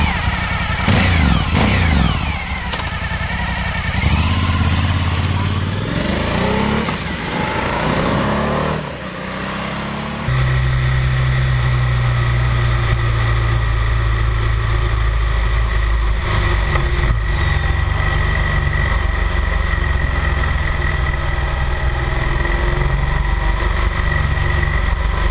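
Suzuki 1000 V-Strom and BMW R 1200 GS motorcycles riding on winding small roads, a loud steady engine drone with wind rush, shifting in pitch early on and then holding an even cruising tone.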